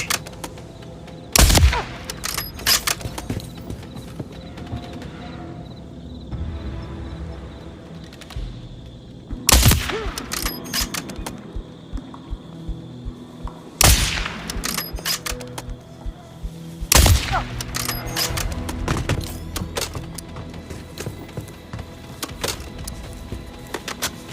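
Gunfire in the video game Call of Duty: Modern Warfare III, with several sharp, loud bursts of shots spaced through a steady rumbling background of battle ambience.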